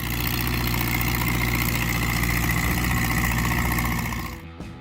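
A small Oliver 550 tractor engine idles with a steady low chugging throb, close and constant, then cuts off abruptly at the end.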